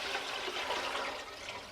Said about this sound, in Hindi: बेसन वाला जो पानी है इसको हम डाल देंगे अपने इस बर्तन में।